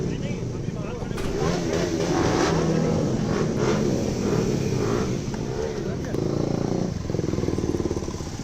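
Several motorcycles at a female bikers' rally rumble and rev steadily throughout, a loud, continuous engine drone with people talking over it.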